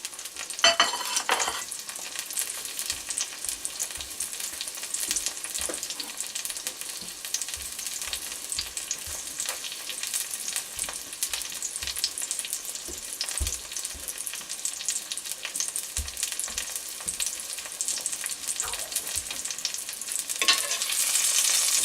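A piece of tender steak sizzling steadily in a hot pan, a loud continuous crackling fry with occasional stirring sounds, close by and with no talking.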